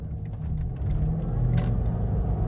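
A supercharged 2006 Range Rover L322 engine rumbles deep and close, then swells in a brief rev as the throttle is opened.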